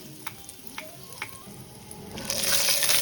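Black cumin seeds and asafoetida dropped into hot oil, with a few light taps over a soft background hiss before a bright sizzle swells up and holds loud near the end.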